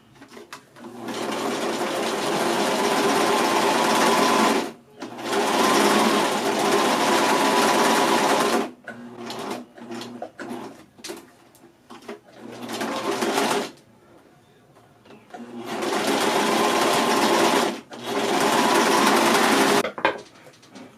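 A sewing machine stitches a bag strap in loud bursts of rapid whirring and clattering, stopping and restarting several times, with short pauses and some light handling noise between the runs.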